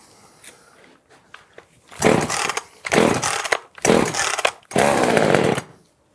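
A Dnipro-M DSG-25H petrol chainsaw revs in four loud, separate bursts cutting two wooden beams at once, each a harsh, buzzing roar, with quieter clicks and mechanical handling noises before the first cut.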